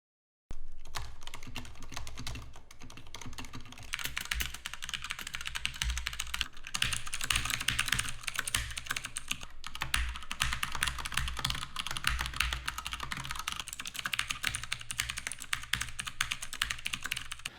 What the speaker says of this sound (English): The one that I'm using right now has blue switches, which provides a nice tactile feeling and a clicky sound.